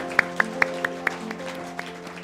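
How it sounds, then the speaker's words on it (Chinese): A church congregation clapping hands during a Sunday worship service, a few sharp claps spaced in a loose rhythm over a sustained musical background, fairly close and moderately loud. "那么用拍掌把荣耀归给神。"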